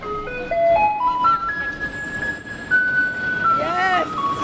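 A yellow garbage truck and a white recycling truck arrive playing a loud tinkling electronic melody that steps up in pitch, over a crowd's chatter and street rumble.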